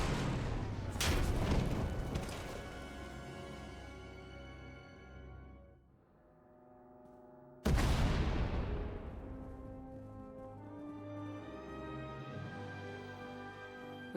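Explosions and a collapsing tunnel in the Star Wars: The Old Republic video game, with heavy booming blasts and a rumbling roar, fading to a lull near six seconds before a second loud blast starts a long rumble.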